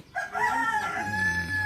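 A rooster crows once nearby, a long rising and falling call, with faint clucking chickens in the background.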